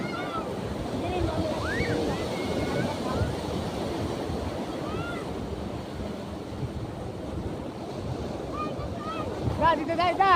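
High sea waves break on the beach at Agno, Pangasinan, a constant roaring surf with gusting wind noise on the microphone and people shouting and chattering nearby.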